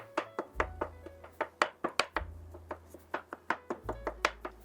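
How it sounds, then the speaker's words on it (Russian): A knife finely chops crab sticks on a board in a steady run of crisp, close knocks, about four per second, with brief pauses between the bursts of cuts. "Мелко порежу крабовые палочки."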